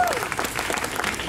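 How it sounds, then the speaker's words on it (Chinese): Brief burst of audience applause at an outdoor music festival concert in Mengjia Park, Wanhua, a dense, even patter of clapping with a short voice at the very start. "给自己掌声。"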